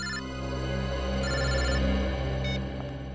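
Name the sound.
telephone ringing, call from mobile company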